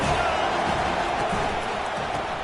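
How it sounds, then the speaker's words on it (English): Roaring football stadium crowd on third down in a video game, a dense, constant wall of cheering and noise that holds at full volume throughout. "Third down, and this crowd is tearing the lid off this place."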